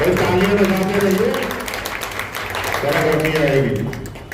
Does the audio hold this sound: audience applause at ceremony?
yes